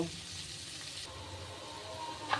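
Green chilli and tomato fry in a pan at home cooking pumpkin and yardlong bean curry, a soft steady sizzle with faint watery crackle, fairly quiet and close, with one brief clink near the end.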